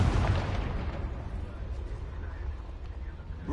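Confringo blasting curse exploding inside a goblin mine in the game Hogwarts Legacy, a loud rumbling boom at the start that rolls off into a sustained low roar and fades.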